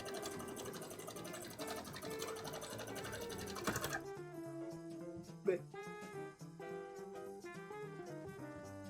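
A sewing machine whirs steadily and loudly, then continues more softly with a mechanical hum and faint tonal background, running without pause throughout.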